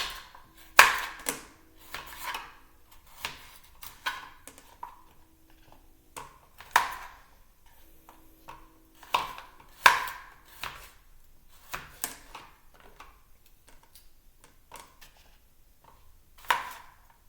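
Potatoes being chopped with a knife, the blade striking the cutting board in irregular bursts of sharp, close knocks with short pauses between, no talking.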